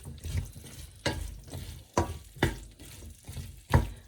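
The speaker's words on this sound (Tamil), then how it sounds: "இப்போ நல்லா மிக்ஸ் பண்ணுவோம்." Tomato and chilli for a Sri Lankan paneer stir-fry sizzle in a pan, with a spatula scraping and tossing in a steady rhythm of about seven strokes, close up and without voices.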